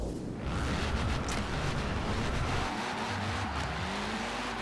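A classic Citroen DS slides sideways on race tires in Forza Horizon 4, its engine droning steadily under rising and falling tire squeal, loud and continuous throughout.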